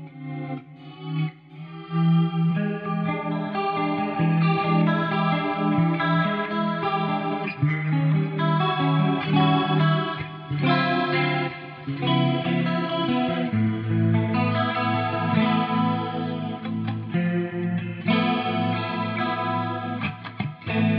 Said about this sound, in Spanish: Van a escuchar cómo todo mi increíble set suena espectacular con esta guitarra